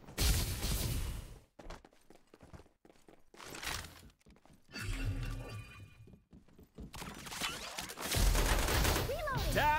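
Gunfire is exchanged in the battle royale game Farlight 84: loud rapid bursts and thudding shots come in several waves separated by brief lulls, with game sound effects around them.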